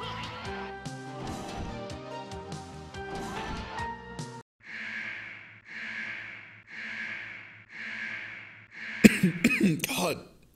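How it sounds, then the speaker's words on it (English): A gamer mid-stream during a 24-hour attempt coughs in a series of four or five evenly spaced, harsh bursts close to the mic, after background game music stops, followed by a louder rough gasp or throat-clearing at the end. "God, I can't stop coughing right now."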